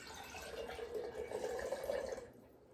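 Ham stock poured from one container into another in a kitchen, a soft steady liquid stream that runs briefly and cuts off near the end.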